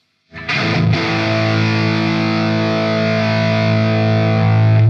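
Distorted electric guitar played through a Mesa/Boogie Mark V amplifier, set for Marshall Plexi-style rock with the EQ switched off; a thick sustained chord rings out loud and steady for several seconds with heavy saturated low end.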